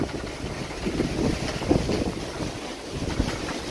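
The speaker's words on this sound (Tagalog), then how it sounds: "gaano kalakas po ang hangin" Strong gusting wind blows across an open outdoor spot with grass being scattered, a steady broad roar buffeting the microphone throughout, rising in brief surges without pause.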